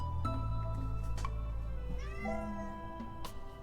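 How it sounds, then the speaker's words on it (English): A cat in the Stardew Valley farming game meows several times in clear, close, tonal calls, each rising and falling, over a steady low background hum. "This cat, she's getting a little scared because she doesn't know how to get out."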